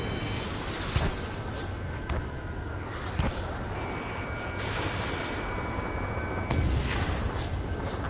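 Missiles launch from a fighter jet in Ace Combat 7, several sharp whooshing bursts spaced about a second apart over a steady loud roar of jet engine and wind.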